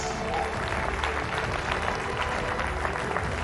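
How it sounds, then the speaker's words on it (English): An audience at a live News18 Rising India event applauds with steady, even clapping. The sound is moderately faint and carries on without a break, as if heard from a distance in a large hall. "Ladies and gentlemen, please put your hands together"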